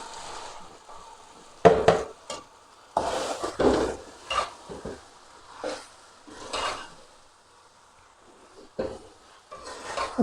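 Fried onion and okra being stirred into masala in a metal pan for Bengali bhindi, with repeated loud scraping and clanking of a spoon, bursts of stirring between pauses, and a low sizzle underneath.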